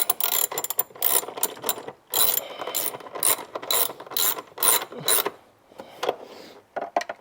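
A ratchet clicks in quick bursts while bolts are tightened during an audio upgrade install in a 1000 hp BMW M5, the loud pawl chatter starting and stopping with short pauses between strokes.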